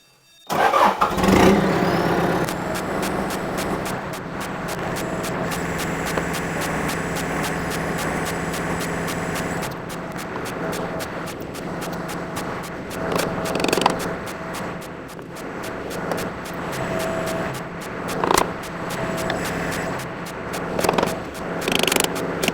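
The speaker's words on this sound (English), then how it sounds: "now I'm going to rotate the bucket down and try to free up this pin so I can drive it out" A backhoe loader's engine idles loudly and continuously while the bucket rotates down, with hydraulic strain, clanks and scraping bursts over the steady diesel rumble.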